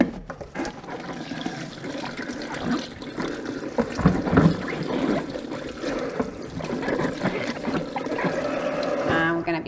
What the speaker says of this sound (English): So we're gonna be rinsing our 1 pepper, 1 green, 1 yellow,